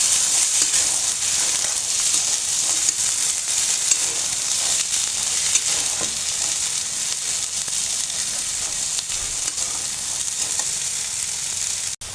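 Peas and carrots fry in a pan for vegetable noodles, with a loud, constant close sizzle and light crackle that runs on unbroken, with no talking.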